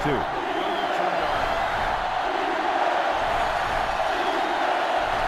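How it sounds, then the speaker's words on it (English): Sellout stadium crowd noise roars continuously during a Clemson versus Georgia college football video game on GameCube, a dense, steady crowd wash under an announcer's commentary. "This sellout crowd is really making a difference now as these guys can't even call the play."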